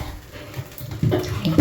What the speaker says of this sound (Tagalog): Saka tayo mag-iipon ng tubig